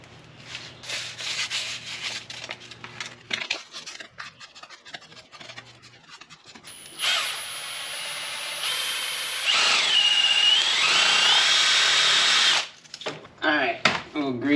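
Brake caliper guide pins from a Chevy Impala are handled with light clicks and scrapes, then a power tool spins up, polishing them with a loud, high, steady whine for several seconds before cutting off into more handling noises.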